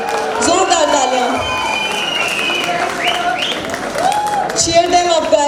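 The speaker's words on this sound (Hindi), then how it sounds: "ज़ोरदार तालियां" A fresher event crowd applauds and cheers a Nati dance team arriving on stage, clapping mixed with shouts and whoops under an announcer's voice, lively and fairly loud throughout.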